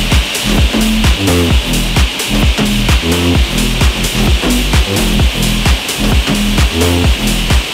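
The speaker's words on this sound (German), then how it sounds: "Die Ecken werde ich alle auf Gehrung sägen und die hier schön einpassen." Wood corners sawn at a mitre angle for a bedside table with a drawer, a loud rhythmic back-and-forth rasp of repeated strokes, close and continuous, with no speech.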